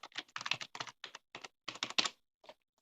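Rapid bursts of keystrokes on a computer keyboard as a password is entered into a sign-up form, close and clear, clustered into quick groups with short pauses and no talking.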